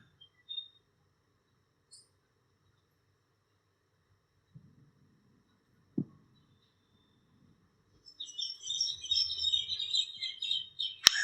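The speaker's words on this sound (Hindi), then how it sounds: "पक्षियों के चहचहाने की आवाज आ रही है" Birds chirp in the distance after a long near-silent stretch broken by a few soft knocks, then a lively run of high, quick tweets fills the last few seconds.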